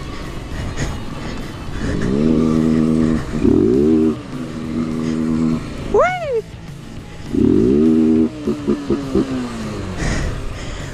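A Honda Fan 160 motorcycle engine on a dirt trail revs up and down in bursts, loud and close, with a brief high whine and choppy throttle blips.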